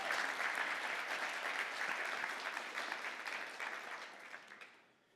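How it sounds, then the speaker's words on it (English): A conference audience applauds the staff. The clapping is dense and sustained for several seconds, then fades out at the end, with no speech over it. "So let's give a round of applause to them."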